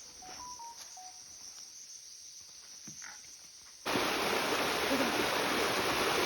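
A forest waterfall: faint insect chirps and quiet surroundings, then the roar of falling water abruptly takes over, loud and constant.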